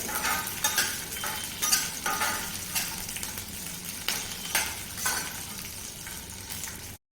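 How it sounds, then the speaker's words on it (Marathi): Green chillies frying in hot oil in a pan, a crackling sizzle with sharp pops and bursts spread irregularly through the clip, close-up with no talking. "आपण त्यामध्ये या मिरच्या सगळ्या टाकून भाजून घेऊया अगोदर चांगले डाग पडेपर्यंत"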